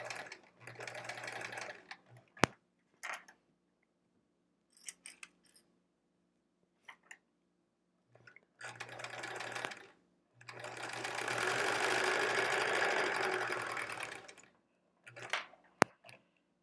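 A sewing machine quilting fabric runs in several short, close bursts and one longer steady run, separated by quiet gaps with faint clicks and handling noises.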